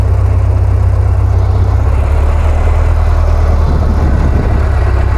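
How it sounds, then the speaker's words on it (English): A 1923 Mercury Speedster Model T's engine exhaust rumbles loudly and continuously with a deep, throbbing low-end pulse, close by, with no talking. "why would you need noise if you got this exhaust note, man? This thing sounds pretty."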